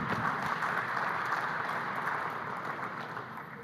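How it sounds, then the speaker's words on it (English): Audience applause at a forum, honoring a singer who has just performed a song: dense, steady clapping from a large crowd that fills the whole stretch and eases off slightly toward the end. "Another round of applause for him, ladies and gentlemen."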